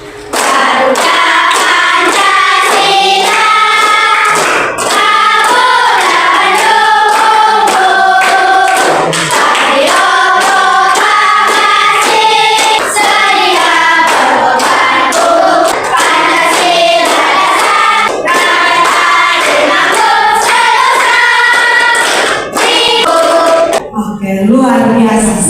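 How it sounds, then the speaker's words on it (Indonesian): Children sing the Indonesian patriotic song Garuda Pancasila loudly and close by, keeping time with steady rhythmic hand claps as percussion throughout the whole song. "mari kita semua menyanyikan lagu Garuda Pancasila diiringi perkusi tepuk tangan"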